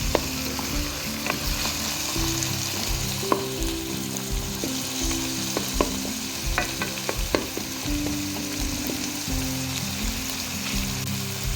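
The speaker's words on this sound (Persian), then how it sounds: "من الان اومدم گوشتا رو ریختم داخل پیازا، دارم تفتشون میدم" Meat sizzles and fries with onions in a pan, ingredients for a lasagna, with steady crackling broken by scraping stirs and clinks of a utensil throughout, close and fairly loud, no voices.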